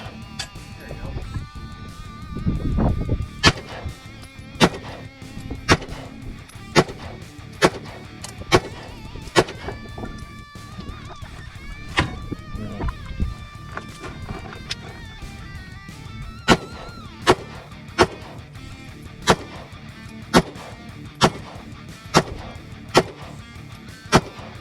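Sharp pistol shots from a TP9 9mm handgun at an outdoor shooting range, a long series of loud close cracks spaced a second or two apart over steady background noise.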